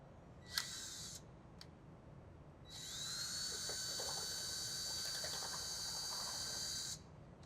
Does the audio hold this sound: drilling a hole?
yes